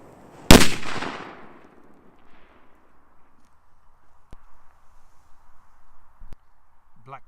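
A Panzer Blitz firecracker goes off with a single sharp, loud bang that decays into a rumbling tail, followed by faint outdoor hum and a few distant clicks.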